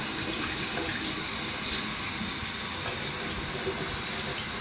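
Hot water runs from a tap into a sink before a shave, giving a steady, continuous hiss and splash that stays close and unchanging throughout, with no talk over it.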